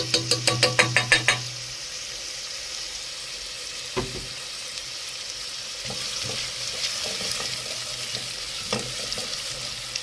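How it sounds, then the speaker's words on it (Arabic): Onion and garlic sautéing in a pot before okra is added, a soft sizzle with occasional spoon knocks and stirring scrapes after a quick burst of rapid metallic taps, fairly quiet and without speech. "هشوح البصلايه شويه عشان اشوح فيها الباميه كمان"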